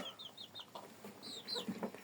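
Hens cluck nearby in a run of short, rising calls, followed by a few softer, lower clucks.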